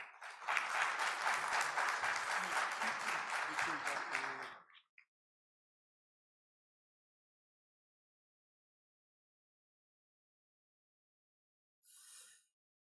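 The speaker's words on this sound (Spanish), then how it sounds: "Un fuerte aplauso para ella." An audience at a tax congress in the Dominican Republic applauds Jorlin Vázquez, legal director of the DGI, with a strong burst of clapping that stops abruptly after about four and a half seconds, leaving silence and a faint brief sound near the end.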